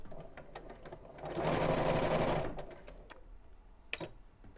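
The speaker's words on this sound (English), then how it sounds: "I'm going to sew with a straight stitch" Sewing machine running a straight seam on a small biscornu fabric pouch, a steady mechanical whir of about a second rising from quiet room tone, with soft taps and clicks before and after.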